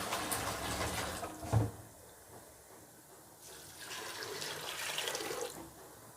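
Water splashes into a pot of chana dal in two bursts of pouring, with a short knock between them, close and fairly quiet.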